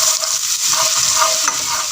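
Garlic and ginger paste fry in hot oil in a wok, with a loud, close, continuous sizzle and scraping stirring strokes running throughout.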